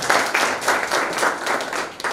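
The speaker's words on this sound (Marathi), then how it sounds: "सर्वजण एक बार जोरदार टाळ्या तुमच्या सर्वांसाठी" A business presentation audience bursts into dense, loud clapping that keeps a steady pulsing rhythm for about two seconds, close and alone without talk.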